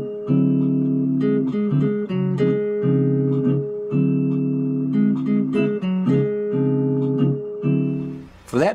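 Nylon-string guitar plays the closing jazz phrase of a song, a few repeated notes and chords ringing clearly and close, with steady phrasing and short pauses, alone without voices.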